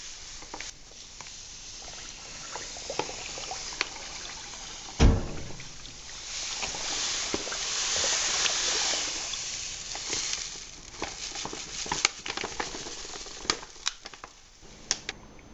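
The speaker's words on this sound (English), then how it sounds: "Now we'll pour the sugar into the second fermenter." Granular sugar pours into a second fermenter while making apple wine, a continuous soft hissing rustle with brief clunks, steady at moderate level with no talk.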